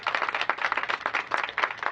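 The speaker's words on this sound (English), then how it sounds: "Please give Corey a big round of applause" Brief, moderately quiet applause from a gathering at a mayoral press event, distinct claps rising and falling over two seconds.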